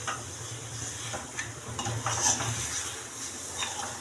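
Masala-marinated chicken being stirred and sautéed in a pan for a dry chicken fry, with soft sizzling under the scrape and clink of a spatula against the pan, steady and close, no talk.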